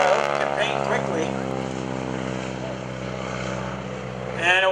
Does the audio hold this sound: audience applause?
no